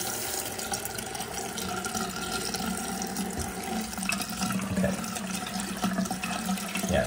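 Cold tap water splashes steadily over a Hot Wheels Color Reveal monster race truck toy, a continuous close, moderately loud gush with no voices.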